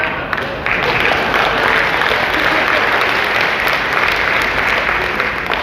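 A seminar audience gives sustained, dense applause at a steady level, close and loud, continuing throughout.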